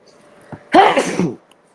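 A single person sneezes once, close and loud: a short intake followed by a sharp burst, with quiet room tone before and after.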